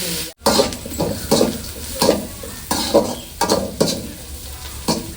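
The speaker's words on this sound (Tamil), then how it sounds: "வெங்காயம் நல்லா வதங்கிடுச்சுப்பா" Onions sauté in a pan for a spicy goat head curry, with a close background sizzle and regular scraping stirring strokes about every half second.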